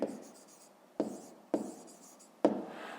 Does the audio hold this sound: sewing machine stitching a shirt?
no